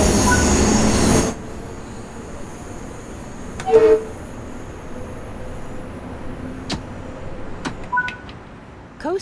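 An LIRR commuter train gets underway in Train Sim World 4, with a low rolling rumble, a brief squeal and a few metallic clanks and ticks. It starts after a loud opening burst and stays fairly quiet.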